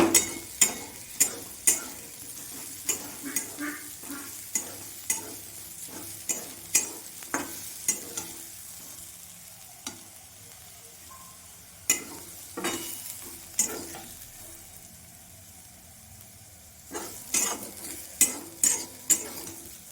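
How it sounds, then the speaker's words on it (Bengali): Mushrooms frying in oil in a wok for a Bengali dish, a soft steady sizzle punctuated by sharp repeated metal clacks and scrapes as a spatula stirs, near and irregularly rhythmic. "ভাজা হয়ে গেছে"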